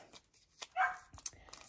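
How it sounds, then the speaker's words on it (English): A puppy yips and barks faintly in the background, a few short bursts in a room where crafting is going on. "My puppy is in the background."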